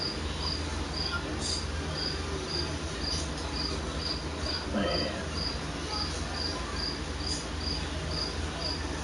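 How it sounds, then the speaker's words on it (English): Crickets chirp in a steady, evenly spaced high pulse throughout, faint against a constant background hiss, with someone briefly speaking partway through. "Boy, the crickets in the background."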